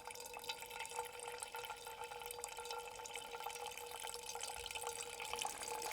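Faint water drips and trickles into a basin from an old water filter, quiet and close, with a soft watery wash running underneath.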